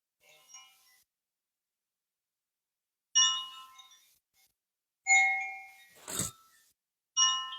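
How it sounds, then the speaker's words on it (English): Koshi chimes, a set of four tuned wind chimes each themed on an element (air and earth here), ring in a few separate shimmering bursts with quiet gaps between, bright metallic tones decaying slowly, close and clear. "I also have koshi chimes"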